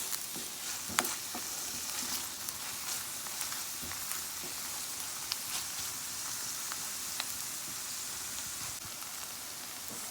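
Ingredients frying in a pan with three heaping teaspoons of tomato paste for a fish stew, giving a steady, close sizzle and crackle with scattered pops and faint stirring, no voices.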